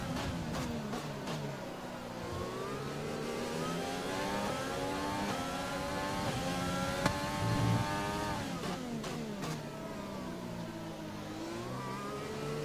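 A Formula 1 race car engine in a video game screams steadily, its pitch rising and falling through repeated gear shifts and downshifts, with faint clicks, heard alone over a continuous whine.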